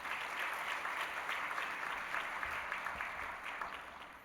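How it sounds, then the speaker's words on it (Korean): A church congregation applauds during a Sunday worship service to welcome a visiting missionary, steady broad clapping filling the room for several seconds and tapering slightly at the end. "우리 박수로 환영하겠습니다"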